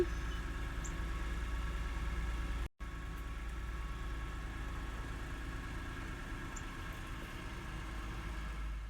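A Toyota Highlander engine idles steadily nearby, a constant low mechanical hum with a brief dropout near the start and no talking.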